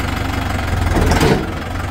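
A tractor engine runs steadily up close during mud clearing on a riverside road, a low rumbling drone that swells into a brief rev about two thirds of the way through and then settles back.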